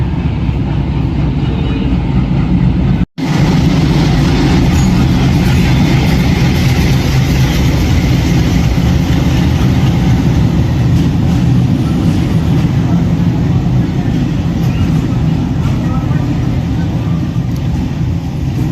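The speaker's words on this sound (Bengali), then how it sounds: "ট্রেন ঢুকছে লাইনে।" Gitanjali Express train pulling into a station platform, a loud continuous low rumble and rolling roar that persists throughout, with one brief sharp dropout near the start.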